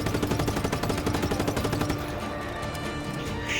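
Rapid automatic gunfire from the video game Just Cause 3, loud and close, with dense rattling bursts through the first half that thin into scattered shots and background clatter.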